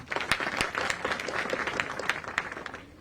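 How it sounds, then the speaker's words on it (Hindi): A modest crowd at a government awards ceremony in Jaipur claps as an honoree comes to the stage, a short burst of close, uneven hand claps that thins toward the end. "जोरदार तालियां।"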